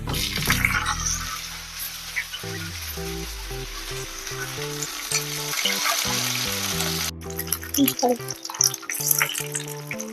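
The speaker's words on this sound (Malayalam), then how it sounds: "നെയ്യ് ഒഴിച്ച് ചൂടായിട്ടുണ്ട്. അതിൻ്റെ അകത്ത് അണ്ടിപ്പരിപ്പ് ഇടാം." Steady crackling sizzle of cashews frying in hot ghee, close by, with a low musical tone running underneath throughout.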